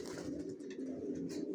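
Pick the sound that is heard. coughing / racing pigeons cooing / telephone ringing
racing pigeons cooing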